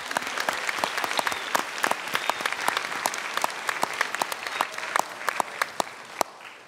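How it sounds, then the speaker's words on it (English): Audience applause at a career panel event, a steady dense patter of many hands clapping, moderately loud and continuous, with no speech over it. "Give yourself a round of applause."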